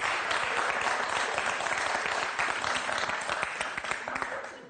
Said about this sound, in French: moi je vous applaudis en tout cas.